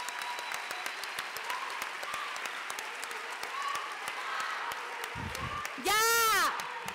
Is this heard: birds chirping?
no